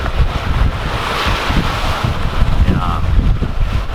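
Strong, gusty wind buffets the microphone aboard a sailboat after passing through the Corinth Canal, a continuous loud roar with surging gusts and water wash underneath.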